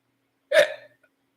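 A single sharp, close hiccup breaks the silence after frozen margaritas, brief and voiced, followed by a tiny faint click.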